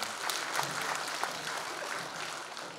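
Audience applause at a Korean lawmaker's public report meeting, brief continuous clapping from a large hall crowd, fairly distant and even throughout.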